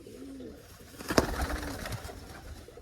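Pigeon held in the hand, giving soft low coos at intervals with a brief louder flutter or scuffle near the middle, close by and otherwise quiet.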